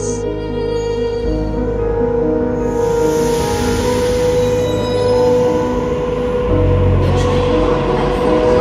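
A Sydney Waratah A3 electric train rumbles steadily at Circular Quay, a loud continuous drone of motors and wheels with a high whine and squeal rising over it, no voices.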